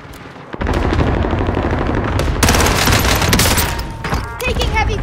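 Sustained automatic gunfire and bursts in a Call of Duty Modern Warfare (2019) match, loud and dense throughout after a brief quieter opening, with battle effects layered over the shots.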